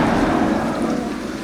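A heavy thunderstorm with rain, from a horror game, rumbles with a loud, dense roll of thunder over a constant wash of falling rain, filling the whole moment without voices.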